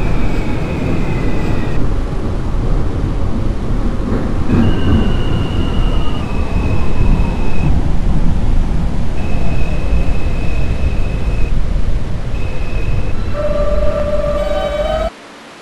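An F train in the Openbve train simulator, on its route toward York Street, gives off a steady, loud rolling rumble with a whining tone that slides and holds, then cuts off sharply at the end.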